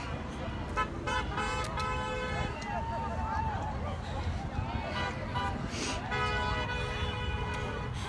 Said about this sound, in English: You can hear those horns honking.